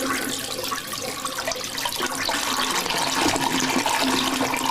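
A toilet flushes with a continuous rushing, gurgling wash of water, loud and close, holding steady for several seconds.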